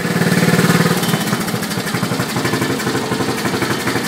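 A Briggs and Stratton 12 hp engine runs at idle close by, a loud, steady chugging with quick even firing pulses that loosen slightly toward the end, with no voices over it.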